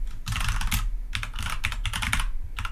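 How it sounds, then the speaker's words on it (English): Fast continuous typing of Java code on a computer keyboard, with dense bursts of key clicks broken by short pauses, close and fairly loud. "might notice it's a lot more typing in Java"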